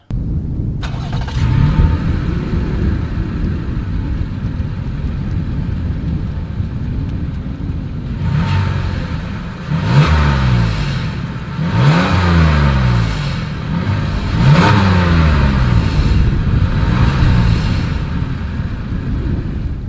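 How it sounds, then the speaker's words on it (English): A 2020 Toyota Highlander SUV engine idles steadily, then revs up in three or four sharp bursts near the exhaust, each swelling and falling back, with no talking. "This is the new 2020 Toyota Highlander exhaust clip."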